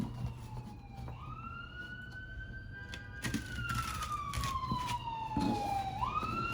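A wailing emergency siren rises and falls in long sweeping tones over steady traffic rumble, fairly distant and continuous throughout.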